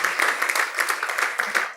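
Steady applause from an audience, a dense wash of many hands clapping together, continuous and fairly loud for a couple of seconds.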